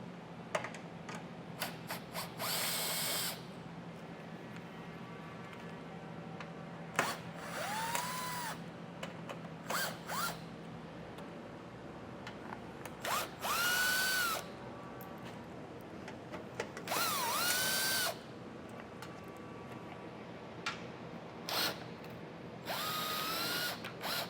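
A power drill removes five 7mm bolts while a tow-bar base plate is fitted to a 2025 car, giving several short, loud whirring bursts with pitch rising and falling, separated by quieter pauses and small clicks.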